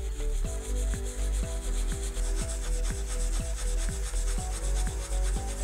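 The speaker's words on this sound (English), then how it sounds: "we are going to polish the surface using the 220 grit sandpaper" Rapid rhythmic rubbing of 220 grit sandpaper in small circles on a flat stainless steel surface, a close, steady scratchy rasp repeating about twice per second with no talking.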